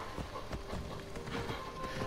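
A horse travels in Assassin's Creed Odyssey with soft, steady hoofbeats in a quick repeating rhythm. The hooves are moderately loud against a busy ambient game background.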